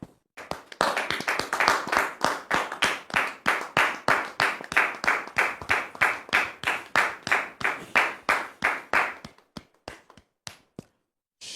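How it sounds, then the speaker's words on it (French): An audience welcomes a visiting pastor with rhythmic, unison clapping: steady, evenly spaced beats for about nine seconds, then a few scattered claps as it dies away. "On le reçoit sous vos applaudissements, s'il vous plaît."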